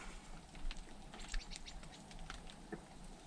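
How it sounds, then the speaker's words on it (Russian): Tits peck and tap at bird feed in winter, producing faint scattered patters and light scratching, with occasional soft chirps in the background. "Синицы. дербанят корм."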